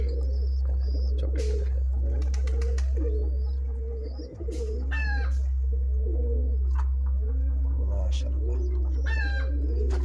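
Pigeons coo softly in repeated low murmurs over a constant low hum, with a few sharper bird calls mixed in.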